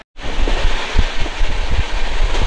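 Express train from Howrah to Puri running on its rails, a steady loud low rumble with rhythmic clunks of the carriages and wind noise throughout, heard from inside the coach.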